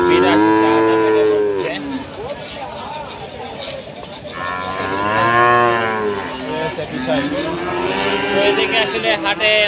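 Cattle at a cattle market low loudly in long, drawn-out moos, several calls overlapping close by, with people talking and general market bustle beneath.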